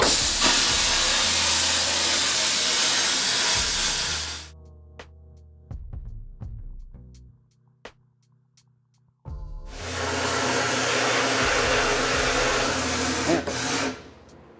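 Vapor blasting machine stripping the coating off a pair of pliers, a loud, steady broadband hiss running about four seconds, pausing with scattered clicks and hum, then resuming strongly near the end.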